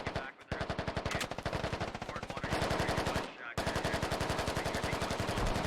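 Sustained automatic gunfire in Arma: Operation Arrowhead, a dense rapid stream of shots with two brief gaps, loud and close, with faint talk underneath.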